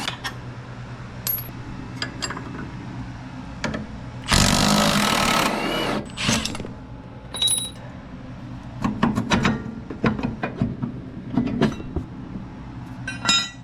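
Hand tools work a fork bolt loose on an EF wagon during a traction bar install: scattered metallic clicks and ratchet ticks, with a loud sustained burst of a powered tool in the middle, nearby with no talk.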